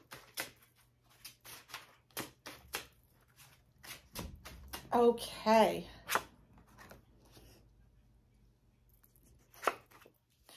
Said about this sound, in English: So I'm just going to give it a nice shuffle.